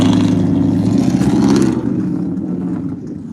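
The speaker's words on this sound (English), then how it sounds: "That's a loud truck." A loud truck rolls past a store parking lot with a heavy, close, low rumble that holds strong for about a second and a half, then eases off and fades as it moves away. No one speaks.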